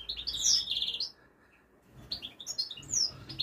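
A pair of British goldfinches give bright twittering chirps in two bursts with a short quiet gap between, fairly close and clear.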